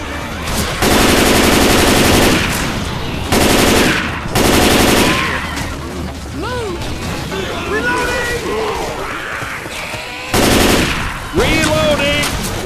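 Loud bursts of automatic gunfire from the zombie shooter Left 4 Dead 2 on The Sacrifice shipyard map, several long volleys with pauses between them, mixed with chaotic game noise and shouted voices.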